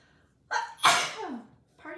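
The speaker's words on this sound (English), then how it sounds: "Oh, I think I'm gonna sneeze." A single sharp human sneeze bursts out loud and close amid quiet crafting at a paper-punching and gluing table, with a short pause after it and brief voice sounds around it.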